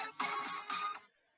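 A new phone ringtone signalling an incoming call, two short tonal chimes in quick succession, faint and fairly close, then silence.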